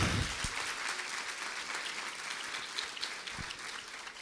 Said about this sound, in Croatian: molim i vas da im se zahvalite jednim velikim aplauzom